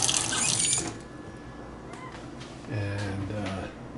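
Water draining from a kitchen sink during a house walkthrough, a soft steady gurgling wash throughout, with a brief faint squeak and a low hum joining in near the end.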